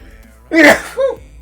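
A single sharp human sneeze, close and loud, with a brief breathy intake followed by a short vocal tail, otherwise quiet.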